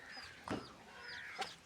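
Chickens in a coop give two short clucks about a second apart, faint and somewhat distant over a quiet background hiss, with no voices.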